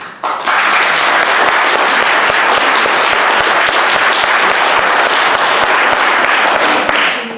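An audience bursts into dense, steady applause after a question at a business hustings, the loud clapping holding evenly for several seconds before tailing off slightly at the end.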